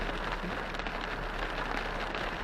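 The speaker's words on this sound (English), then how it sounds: "Yeah, it's raining." Steady rain falling outdoors, a dense even hiss of drops on surfaces, fairly loud and continuous with no talk over it.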